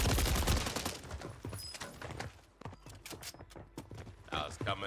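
Gunfire rings out in the Warzone video game: bursts of sharp, rapid shots, some near and some distant, crackle under excited voices talking and shouting.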